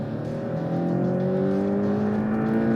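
A Porsche 718 Cayman pulls away at full throttle in Sport Plus mode, the engine pitch rising smoothly and strongly over a few seconds, close and steady with no voices.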